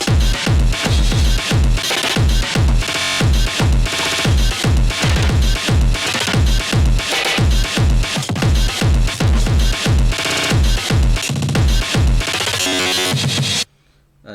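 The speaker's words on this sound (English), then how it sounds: "you can hear the kick pattern" A heavy breakcore kick drum pattern programmed in Renoise: dense, rapid, booming kicks hammer continuously and loudly under distorted, noisy layers for about thirteen seconds before cutting off abruptly.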